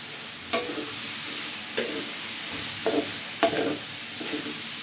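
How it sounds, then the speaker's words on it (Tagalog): Pork for dinuguan is stirred in a sizzling frying pan, with about five distinct scraping strokes breaking through a constant close hiss and no talking. "Haluhuluin na natin yan. Hanggang magtutubig kasi."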